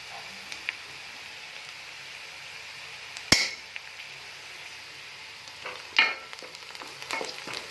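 Cumin seeds hit hot oil with softening onions, giving a low steady sizzle with a few sharp clinks and stirring scrapes around the pan, close and fairly quiet.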